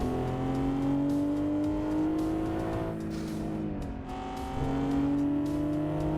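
Corvette engine in a sim racing game revs steadily with a continuous loud harmonic drone, dipping briefly around the middle before climbing again, no talking.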